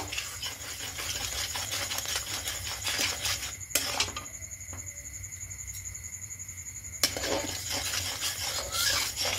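Sweet ripe palm batter mixed in a pot, with a steady rubbing scrape of a spoon against metal under constant background hum and two sharp clanks of the utensil on the rim.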